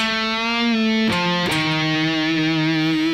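A distorted electric guitar plays a slow Phrygian doom metal riff, sustained heavy notes with a half-step bend up and back, loud and alone.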